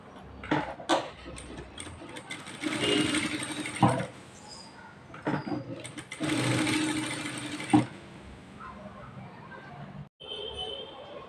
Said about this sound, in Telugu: ఇప్పుడు మనం దీన్ని చుట్టూ లైనింగ్ అతకబెట్టేసుకుందాం